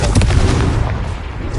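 A Confringo spell explosion in Hogwarts Legacy, a single loud, booming blast that hits hard and fades out over about a second.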